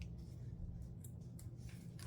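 Scissors cutting cream-colored ribbon for an art journal cover, several faint quick snips over a quiet background hum.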